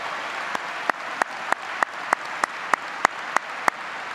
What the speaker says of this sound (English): Let's give these students a round of applause.